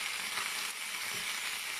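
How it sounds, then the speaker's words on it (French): Green beans sautéing in a frying pan after escalopes, a continuous hissing sizzle at an even level with faint clinks underneath, no talking. "je vais faire revenir un peu les haricots verts dans la poêle"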